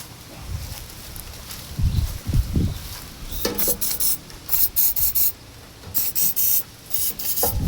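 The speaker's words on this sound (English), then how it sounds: "Give it a good spray." CRC lubricant is sprayed onto a part of an old-school Honda Daelim chopper motorcycle, several sharp hissing bursts in quick succession after some rubbing and handling noises, close up.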